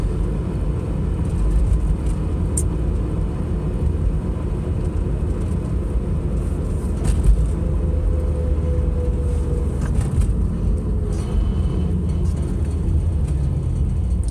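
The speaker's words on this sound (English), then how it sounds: "So far it's looking like normal Saturday morning early traffic" Early Saturday morning traffic rolls along Route 66 in Tulsa, a continuous hum of cars passing on a two-lane street with occasional louder swells, no voices.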